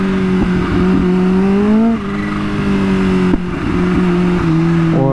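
A Kawasaki Ninja H2 motorcycle on a night ride roars loud and close, holding a steady drone with pitch shifts as the throttle changes and a few sharp exhaust backfire pops.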